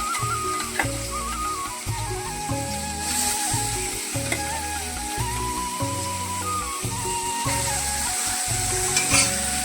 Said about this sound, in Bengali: এখন মাছগুলোকে দিয়ে দিলাম মাছটি।